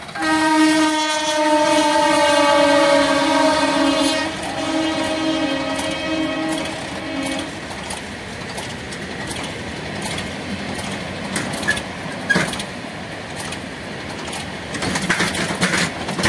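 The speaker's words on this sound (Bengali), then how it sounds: "এই যে ট্রেনটা চলে যাচ্ছে" A train on the Howrah line near Bankura and Masagram passes close by, sounding a loud, sustained horn for several seconds before the horn stops and the rumble and clatter of its cars rolls on.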